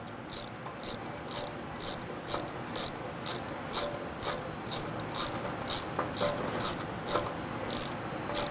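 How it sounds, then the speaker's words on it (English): Ratchet with a 5/8 socket tightening bolts while changing a bearing on a Diedrich specialty coffee roaster, steady rapid clicking close up over a constant background hum. "come back in with your 5/8 socket and tighten the other 2 bolts"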